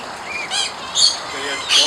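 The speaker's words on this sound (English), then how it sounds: "Let's watch Elizabeth feed the birds." Birds squawk while being fed by hand, with several harsh, close calls in quick succession over a steady background hiss.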